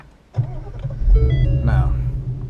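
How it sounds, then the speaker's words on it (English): After a brief quiet moment, a 2015-2017 Ford Mustang with the performance package cranks and catches, settling into a steady low idle rumble close by, with a faint chime overhead, on a hot day. "Let's go ahead and turn on the car."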